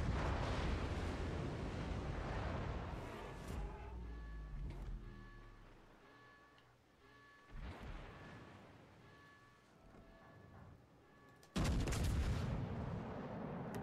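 Naval guns fire shells in the World of Warships Legends video game: loud booming salvos open the clip, another lands midway, and a final heavy blast near the end, with quieter rumbling between.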